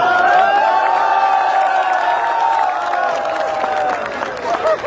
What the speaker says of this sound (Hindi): और तालियां तो इस बात पे बजाना